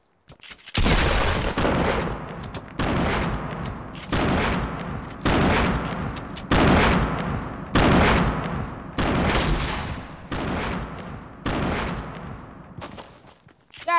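Heavy, sustained gunfire in a shooter video game, with repeated loud bursts of blasts rolling one after another at close range and barely any gap between volleys.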